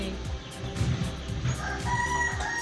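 A rooster crows amid other farm fowl at a horse rescue sanctuary in Mallorca, a strained mid-distance call with clucking and background noise around it.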